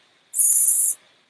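A voice makes a single close, loud, sustained hissing sound about half a second long, imitating a snake.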